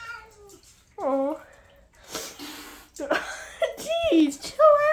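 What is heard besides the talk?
cats meowing and caterwauling while fighting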